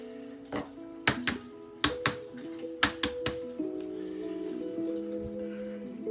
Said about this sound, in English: I'm going to peel them all first, and then we'll cut them.